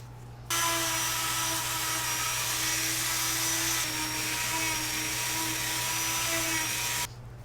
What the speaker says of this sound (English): I'm going to take the Dremel. I got a little sanding drum here. I'm going to go ahead and smooth these edges out.